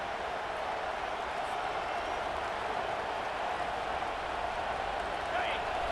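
Stadium crowd in an American football video game at first and goal, a continuous distant roar of many voices that stays even and steady, faint beneath the game's commentary.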